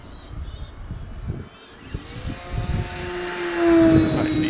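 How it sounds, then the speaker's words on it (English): An Avios Kobuz 2200mm powered sports-scale aerobatic glider with flaps makes a fast pass, its motor whine swelling and rising in pitch as it approaches and sweeps by over outdoor wind noise. "High speed pass. Lots of power."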